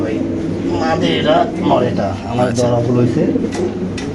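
A male Lahori pigeon coos in close, repeated throaty calls while a person talks over it and a low background hum continues.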